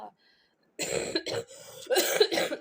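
A short burst of harsh coughing and throat clearing, close up, in a few rough pulses after a brief quiet moment.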